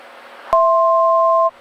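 A single loud two-tone electronic aircraft altitude alert beep, sounding while climbing through 8,500 feet, holds steadily for about a second over a low background hum.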